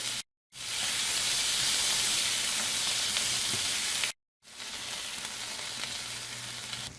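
Onions frying in a pan for beaver liver and onions give a loud, steady, close sizzle and hiss, broken by two brief silent gaps, with no voices.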